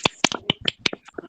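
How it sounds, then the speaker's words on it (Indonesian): A small group clapping in an online practice class, a short run of crisp, irregularly spaced claps, close and dry. "kasih tepuk tangan lagi"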